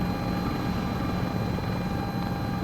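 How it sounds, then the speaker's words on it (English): A CowanSim S76 helicopter flies in a video game, its rotor and engine making a continuous, even whirring drone at a moderate level with no talk. "And you can start on it with a helicopter."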